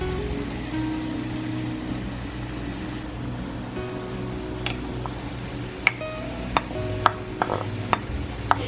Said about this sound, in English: go ahead and add your mushrooms. You'll saute them for about 5 minutes